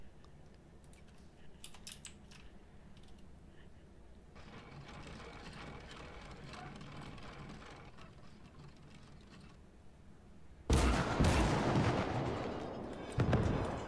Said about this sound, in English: The Germans start the attack with a classic artillery barrage, bombarding the Russian positions in front of them.